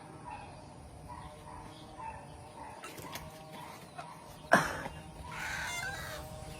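A rooster crows in the distance amid faint clucking and background noise, with a sharp knock partway through.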